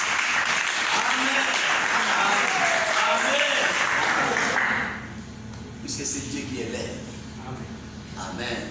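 A church congregation at a French-language sermon applauds with sustained, dense clapping that drops to a quieter level halfway, with some voices mixed in afterward.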